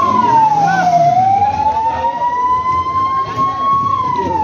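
An ambulance siren at a flood scene wails loud and close, its tone sliding down and then slowly rising again in one continuous sweep.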